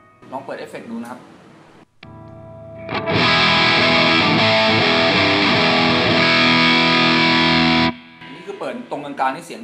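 A Lavit electric guitar plugged into an amp through a Suhr Riot distortion pedal rings out one loud, heavily distorted sustained chord for about five seconds, with someone talking before and after.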